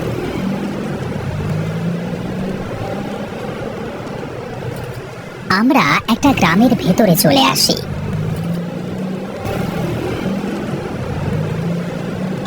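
A cartoon sound effect of a family car driving toward a village gives a continuous low engine drone with a burst of warbling, chirpy noises in the middle. Voices talk over it throughout.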